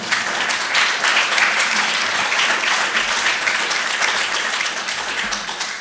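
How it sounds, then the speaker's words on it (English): A conference audience at an energy-sector keynote by the FERC chairman breaks into loud, full applause, a thick continuous roar of clapping that stays strong throughout and tapers only slightly at the close. "Y'all can clap for that."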